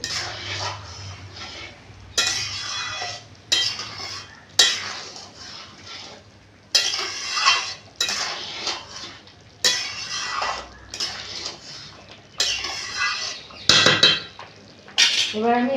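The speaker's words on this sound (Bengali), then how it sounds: "নাড়িয়ে দেবো" Pulao of Gobindobhog rice being stirred in a cooking pot, with repeated scraping and clinking of a utensil against the metal in bursts, close and fairly loud over a soft background hum.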